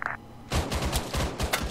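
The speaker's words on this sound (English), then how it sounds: "Friendly Charlie shots." Friendly gunfire in the military shooter ARMA 3: a rapid run of sharp automatic shots cracking in an uneven rhythm, fairly close and loud, following a short radio beep.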